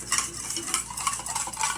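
A utensil stirs and mixes salad dressing in a bowl, a steady run of close clinking and scraping strokes with no talk.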